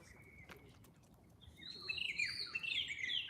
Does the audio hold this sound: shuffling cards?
no